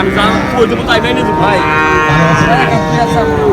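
A calf moos loudly and close by at a cattle market, a long drawn-out bellow with a rising, wavering pitch.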